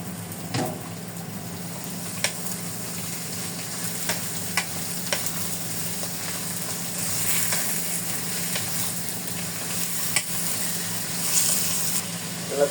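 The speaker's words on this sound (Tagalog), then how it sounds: "Kaya pwede na natin ilagay ang ating pusit." Squid frying in a pan for adobong pusit, a steady close sizzle with occasional stirring clinks and scrapes, no talk.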